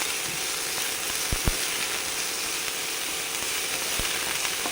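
Sprouted green gram frying in a pan gives a steady, close sizzle with a few soft stirring taps.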